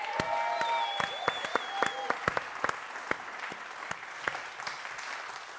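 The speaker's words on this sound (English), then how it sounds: "let's make some noise for Bridgette Bianca" An audience at a poetry reading breaks into applause for a poet, a dense burst of clapping with a few whoops that thins toward the end.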